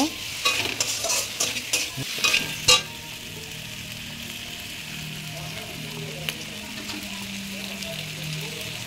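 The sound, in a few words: stir-frying mutton in a pan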